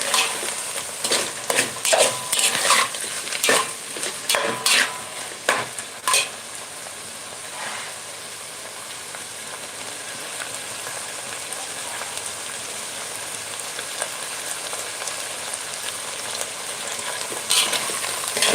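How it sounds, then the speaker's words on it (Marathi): Washed spring onion greens sautéing in hot oil for a Khandeshi eggplant bharit, with a loud steady sizzle and several clattering stirs early on, then an even frying hiss. "स्वच्छ धुवून घेतलेली कांद्याची पात आपण याच्यामध्ये ॲड केलेली आहे तिला आता छान ह्या तेलामध्ये आपण परतून घेणार आहोत"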